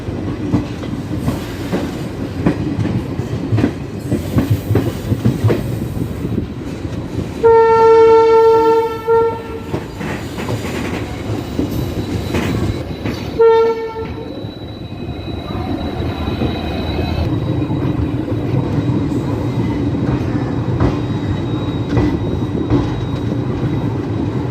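An Amritsar Jan Shatabdi passenger train hauled by a WAP5 electric locomotive runs toward Saharanpur station. Steady rumbling and clattering wheels are heard from inside the train. Two loud horn blasts sound, the first longer than the second, and a thin whine persists afterward.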